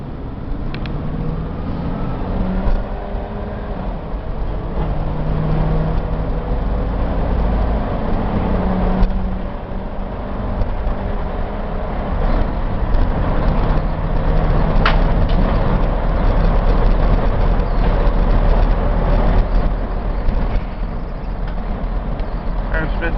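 A Chevy box truck with a power lift and low original mileage rolls down the road, its steady engine drone and road roar filling a loud cab with occasional creaks.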